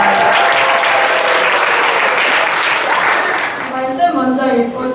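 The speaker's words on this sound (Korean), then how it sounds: "두 번째 설교자 우리 이혜원 학생 앞으로 나올 때 우리 박수로 환영합니다." Applause fills a church worship hall at a Christian alternative school, welcoming a student preacher forward; steady, dense clapping that thins in the last second as speech begins.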